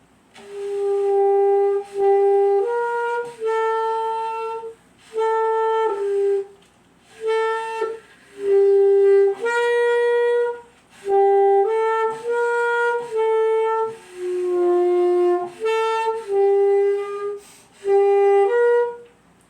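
Tenor saxophone played solo in a room: a melodic line of sustained, reedy notes in phrases separated by short pauses, close and clear with no talking.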